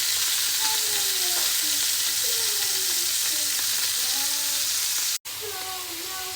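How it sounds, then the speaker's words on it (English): Onions and beef frying in a pan for indomie noodles, a loud continuous sizzle and hiss up close with faint tonal squeaks, briefly cutting out near the end. "So I put just little onions"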